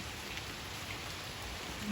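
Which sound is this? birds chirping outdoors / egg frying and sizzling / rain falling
rain falling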